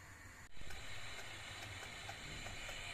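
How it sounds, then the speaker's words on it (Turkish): Steam releasing from a Tefal pressure cooker, a sudden loud hiss that starts half a second in and continues steadily as a broad rushing jet, close and alone. "Şimdi buharımız çıksın."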